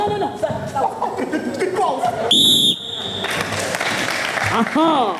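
A short shrill whistle blast cuts through a noisy crowd with talking, squeaks and thuds, like a referee's whistle in a gym, at an improvised theatre match in Congo.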